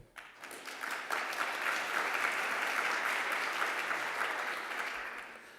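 Sustained applause from a conference audience at an opening session in Switzerland, a dense wash of many hands clapping that swells quickly and holds steady, slowly tapering near the end.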